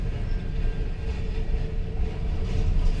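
Steady rumble and rattle from inside a moving train carriage, a continuous close, full-bodied drone of wheels and car noise with no voices.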